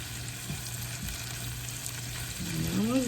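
Eggs frying in a pan as tomato sauce goes in, a steady close sizzle and crackle with a few soft clatters, rising slightly louder toward the end.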